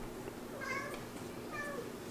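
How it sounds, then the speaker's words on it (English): A small fluffy cat meows twice in short, high calls over a steady indoor background hum, with no talking. "That's his little meow."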